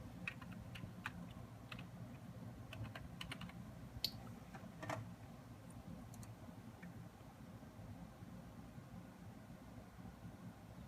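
Someone types an admin password on a computer keyboard while setting up a Buffalo Linkstation 441e: scattered, faint key clicks come in short irregular bursts over a low room hum, with no one speaking.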